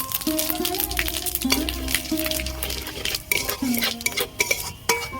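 Panch phoron and a bay leaf frying in oil, a spatula scraping and clinking repeatedly against a metal pan with ringing metallic tones over a light sizzle, close and busy.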